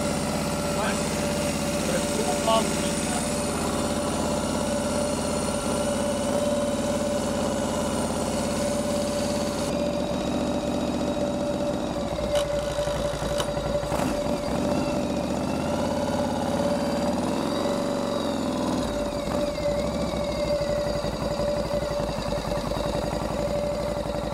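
A motorcycle idles as it warms up during a custom bike build, a steady nearby rumbling idle that lasts the whole stretch, with some voices in the background.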